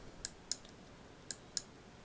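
Four crisp, quiet computer mouse clicks in Cricut Craft Room software, arriving as two pairs about a second apart, close and isolated against faint background hiss.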